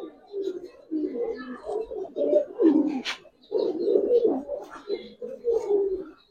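A pair of Giribaz pigeons coos close by in repeated rolling, throaty phrases with short pauses between them. A few faint sharper calls come through, and no talking is heard.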